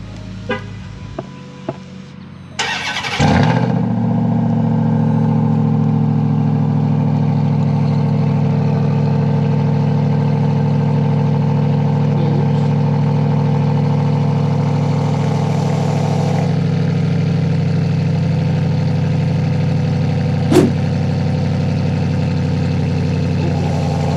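A 2021 Ram TRX pickup with QTP Aggressor exhaust cutouts fires up from a cold start: a brief starter crank and loud bark, then a deep, steady, droning high idle that holds close and loud for the rest of the clip.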